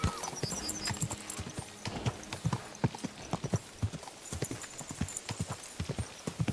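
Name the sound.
horse galloping in video game Kingdom Come Deliverance 2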